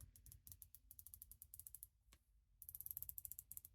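Rapid ratcheting clicks from the rotating 60-click bezel of a Damasko DSUB10 diver's watch in two bursts with a short pause between, close and quiet, crisp and evenly spaced.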